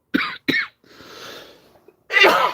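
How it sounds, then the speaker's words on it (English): Two short, sharp coughs close by, followed by a throaty breathy exhale and then a longer, rougher cough burst. "stop coughing like this"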